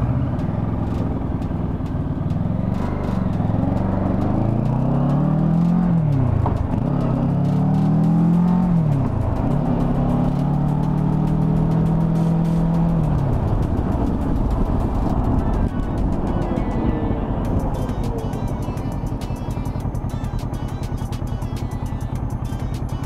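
A Kawasaki Versys motorcycle engine hums loudly and continuously while being ridden, its pitch rising and falling through gear changes, with wind noise throughout.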